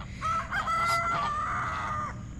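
Rooster named Rex crowing once near a pen holding released guineafowl, a single loud, drawn-out cock-a-doodle-doo lasting about two seconds over a faint low background rumble.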